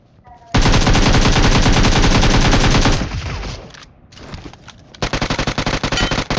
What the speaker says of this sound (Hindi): अब इस बंदे ने फालतू में फायर कर दिया